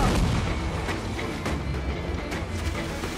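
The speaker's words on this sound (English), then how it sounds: "Enemy fire!" Heavy cannon fire booms from enemy ships in the pirate naval game Assassin's Creed Black Flag, several dense blasts and rumbling impacts overlapping in quick succession, loud and close.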